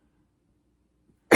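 A woman gives one sudden, harsh cough close to the microphone, cutting in at the end after near silence.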